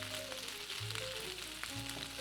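Fried rice for a bacon fried rice frying softly in a pan, a low steady sizzle with a couple of faint stirring scrapes and no talk.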